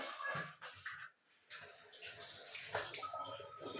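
Water runs and splashes into a container for homemade fruit compote in uneven gushes, with a brief pause before pouring resumes, close and fairly quiet.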